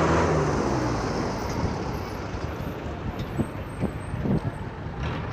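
Bus at a general bus stand in Pakistan, with a loud hiss of air brakes at the start followed by engine rumble and short thuds and clanks among traffic noise.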